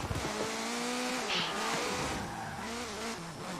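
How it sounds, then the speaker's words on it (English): A car drifts in the video game Forza Horizon 4, its engine revving through rising and falling pitch while the tires squeal steadily, loud and close, with no one talking. "So Joe, do you think you still can have fun drifting on Forza?"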